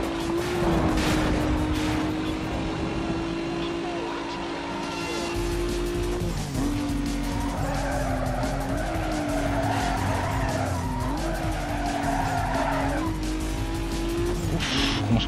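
Cars race and skid in Need for Speed Most Wanted (2005) on PC, with a loud, steady engine drone and long tire squeals that rise and fall. Gear changes and scraping skids sound as the car corners hard.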